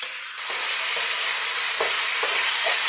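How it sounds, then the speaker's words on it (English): Pork stew sizzles loudly in a hot pan while being tossed and stirred, a steady bright hiss broken by several scraping stirs, close up with no voices. "we're going to just sort of throw this around in the pan"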